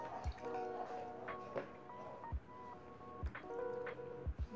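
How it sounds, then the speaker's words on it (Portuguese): Water from a small pot drips and trickles while hair is wetted: scattered soft drips and wet squishes, close and quiet, over faint background tones. "E eu molho bem o cabelo."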